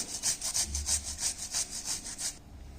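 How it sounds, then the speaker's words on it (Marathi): Raw cucumber rubbed against a fine kitchen grater while preparing a snack, giving about ten quick, even rasping strokes up close before the scraping stops near the end. "त्या खिसणीने आपण हे असं काकडी खिसून घ्यायची"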